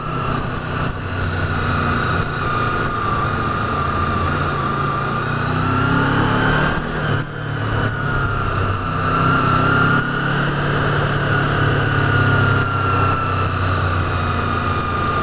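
A Honda VFR800Fi motorcycle engine held at a steady high rev, a loud continuous whining drone with strong harmonics, close by, dipping briefly around the middle before climbing again, with no talking over it.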